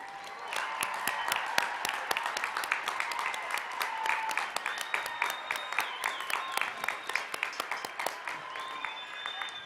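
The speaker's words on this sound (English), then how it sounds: "Let's give them a round of applause." A high school graduation audience in Amarillo applauds seniors offered scholarships: a sustained wash of many hands clapping, somewhat distant, with a few high whistles or cheers rising over the crowd.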